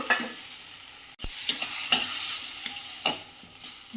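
Cooked toor dal is stirred into fried fenugreek leaves in a pan: a soft sizzle runs underneath while the spoon scrapes and clacks against the pan several times, close by and fairly quiet, with no talking.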